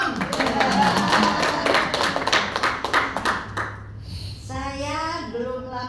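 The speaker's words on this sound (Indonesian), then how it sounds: "Tepuk tangan dong." A small audience at a hotel product presentation claps along in loose, ragged bursts, with individual hand claps standing out, then the clapping trails off and a voice begins speaking over the fading sound.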